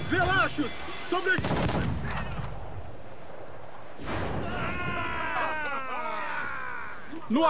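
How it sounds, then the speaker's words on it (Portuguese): Gunfire in the pirate naval game Assassin's Creed IV Black Flag, with sharp blasts near 1.5 and 4 seconds amid battle noise at sea, and shouting voices around them. "Estão atirando!"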